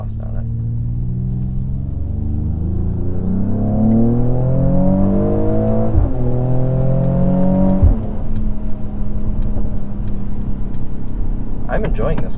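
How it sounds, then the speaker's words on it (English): A 2022 Mercedes-AMG GLE 53 engine and exhaust in powerful mode, heard from inside as the engine revs up through rising gears with a deep droning tone, shifting around midway, then settling into a steady cruising hum. "You are in powerful exhaust mode."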